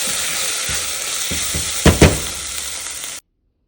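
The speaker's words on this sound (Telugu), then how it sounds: "కొంచెం మెంతికూర బాగా ఫ్రై అవ్వనివ్వండి" Fenugreek leaves seasoned with turmeric and chili powder fry in a pan with a steady close sizzle, broken by a few soft stirring knocks and scrapes, before cutting to silence.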